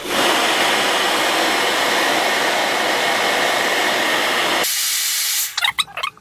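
Heat gun blowing a steady, loud stream of hot air for about five seconds while re-shrinking wrap onto an 18650 battery, then cutting off abruptly, followed by a few faint handling noises.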